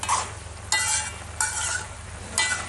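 A spoon scrapes and stirs vegetables for Onam aviyal in a pot, giving three or four distinct sweeping strokes over a low steady hum. There is no talk.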